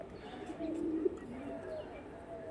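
Tournament-quality pigeons coo nearby, a soft rolling warble that swells in the middle and then trails off into quieter murmurs, with no speech.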